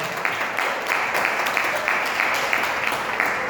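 A church congregation applauds during a sermon, a steady wash of clapping with scattered sharper claps, heard at moderate level with no clear speech.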